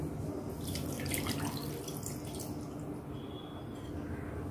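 A cup of water running into a container while preparing gooseberry juice, a steady splashing tap-like stream lasting several seconds at moderate level, with no talking.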